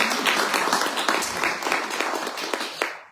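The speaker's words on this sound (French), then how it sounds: "Je propose qu'on applaudisse." An audience at a festival presentation bursts into sustained, dense applause that stays steady and then tapers off at the end, with no voices over it.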